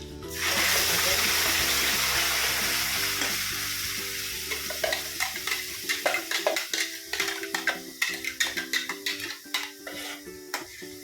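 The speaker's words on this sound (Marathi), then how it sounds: "मग चांगला तेल सुटेपर्यंत परतून घ्यायचा" Ground spice paste for Kolhapuri misal tarri sautéing in hot oil in a pan, a loud steady sizzle at first that thins into crackling spatters and repeated stirring scrapes.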